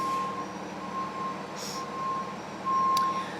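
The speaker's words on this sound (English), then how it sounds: "There's a moving truck outside" A moving truck reversing outside sends out a repeating electronic beep, muffled and fairly distant, over a steady low background hum.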